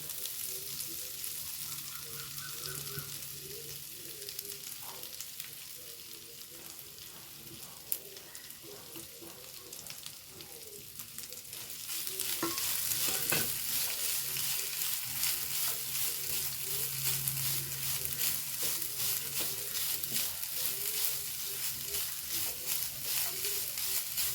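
Grated coconut fries in a pan while it is stirred. A soft sizzle with scraping strokes builds to a louder, denser crackle about halfway through, with no talking.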